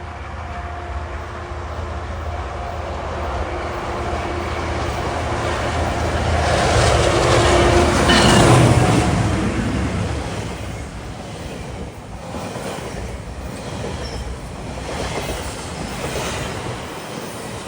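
An outbound GO Transit Lakeshore East train bound for Mount Joy passes by in Toronto, its rumble swelling to a loud peak midway, then easing into a lingering clatter of wheels as it moves away.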